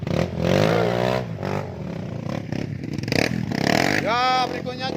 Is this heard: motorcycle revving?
yes